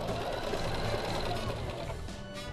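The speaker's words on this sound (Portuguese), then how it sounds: "faço toda a costura ali, ela já vai pedir a troca de linha" A Singer sewing machine stitching an embroidered dish towel runs in a steady, continuous fast whir of needle strokes, close and alone throughout.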